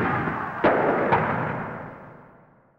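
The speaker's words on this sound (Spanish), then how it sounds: "Se escuchan también algunos disparos de armas de fuego." Two sharp firearm shots ring out during a street protest, spaced about half a second apart, each with a long reverberant tail that slowly fades across an open outdoor setting.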